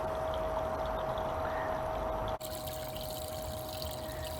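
Water trickles and streams steadily through a Blue Bowl gold concentrator, a soft continuous wash with a brief dropout partway, then flowing on at a slightly changed tone.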